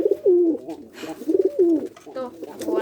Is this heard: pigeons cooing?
yes